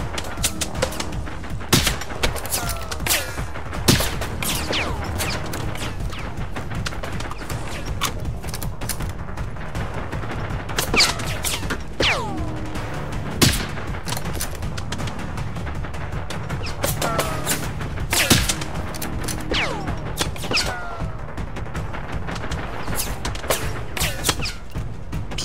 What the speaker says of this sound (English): Why aren't my shots hitting them?